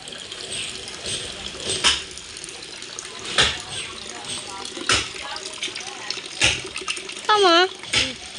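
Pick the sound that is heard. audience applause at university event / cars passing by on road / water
water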